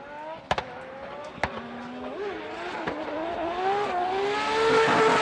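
Toyota GR86 race car drifting at Fuji International Speedway during a drift qualifying run, its engine revving and rising steadily in pitch with sharp popping bangs early on and tire noise building toward the end.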